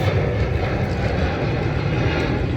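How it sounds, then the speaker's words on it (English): Jet planes take off at an airport, a loud, broad and steady engine roar that carries on without a break and with no talking. "Planes are already taking off."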